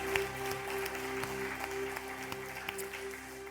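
A Korean church congregation claps along during praise at a Sunday service. Rhythmic, moderate applause runs over a sustained instrumental tone, with no one speaking.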